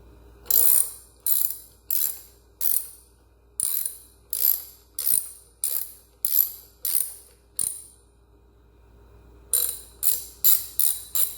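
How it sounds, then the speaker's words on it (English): An 8mm socket wrench loosening the carburetor nuts on a Stihl BG55 leaf blower, giving crisp, close ratchet bursts in a regular rhythm, with a short pause before a faster final run of clicks. "that hold the carburetor on, and I believe they're an 8mm, and that's the socket I had laying out"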